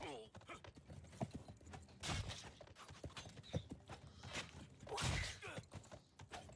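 Horse hooves clip-clop in the video game Blood of Steel as a quick, steady stream of close thumps. The hoofbeats are mixed with clanking, bursts of noisy battle sound and a voice talking.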